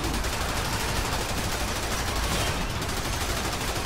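Dense, unbroken gunfire in the Warframe video game, a loud wash of rapid shots that fills the whole stretch without a break.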